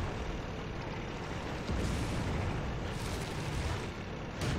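Tank cannon shots in a video game: a few heavy booming blasts land at intervals over a continuous rumbling battle background, with no talking.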